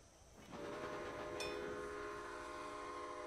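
An express train in the Railway Empire video game rolls with a steady, loud rumble that starts after a quiet moment. A short horn blast sounds partway through, with no talk over it.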